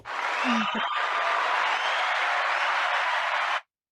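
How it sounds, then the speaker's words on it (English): Applause sound effect on a podcast, a steady wash of clapping and crowd noise lasting a few seconds before cutting off abruptly, with a brief voice-like sound near the start. "Everybody looks forward to the applause."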